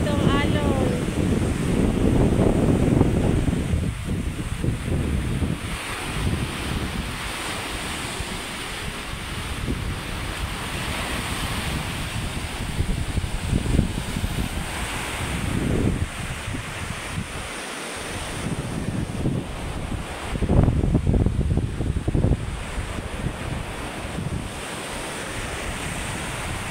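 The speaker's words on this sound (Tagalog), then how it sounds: "Ang lalaki po ng alon ngayon dito." Big ocean surf rolls in continuously with wind buffeting the microphone, several large waves crashing and swelling louder at intervals.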